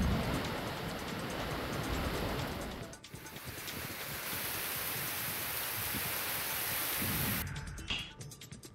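Heavy pre-monsoon rain pours down in Maharashtra as a dense, steady hiss and roar. It dips briefly around three seconds, then resumes at full strength and thins slightly toward the end.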